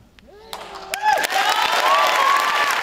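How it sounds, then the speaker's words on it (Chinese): Theatre audience bursts into applause and cheering at a closing-night curtain call, swelling from a few scattered claps into a full, steady ovation after a brief tonal sound. "观众的掌声献给表演者，也献给自己"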